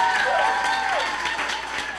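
An audience at a One Brooklyn community day bursts into brief applause, a short burst of clapping mixed with a few cheering voices that fades slightly toward the end.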